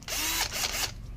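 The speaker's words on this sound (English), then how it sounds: "There we go, it was on drill." A cordless drill whirs loudly for about a second while driving a screw during a garage door brush seal install, its pitch dipping briefly under load before the motor stops.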